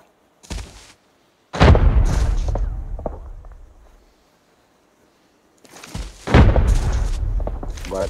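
Grenade explosions in the shooter game Arena Breakout: a short blast, then a heavy boom with a long rumbling decay, a gap of silence, then another pair of loud close blasts trailing off.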